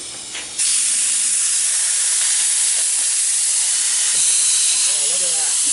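Compressed air at about 160 psi bursts into a loud, steady hiss that runs continuously for several seconds after a brief quieter start, close to the microphone, with faint rattles near the end.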